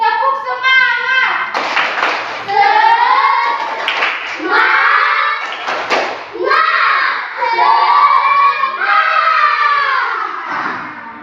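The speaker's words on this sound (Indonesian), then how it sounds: "kita akan melakukan yel-yel tepuk semangat" Primary-school pupils in a classroom perform a spirited clapping chant together, loud sung voices in unison punctuated by bursts of rhythmic hand claps in repeated phrases.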